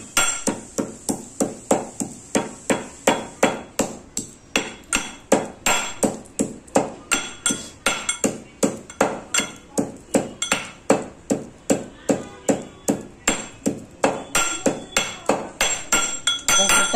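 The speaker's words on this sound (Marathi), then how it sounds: "आता ह्याच्यामध्ये ना हे वेलची कुटते पहिले." Cardamom pods pounded with a pestle while making rice kheer, a steady run of sharp, loud strikes at about two per second with a metallic ring, continuing without pause and without talk.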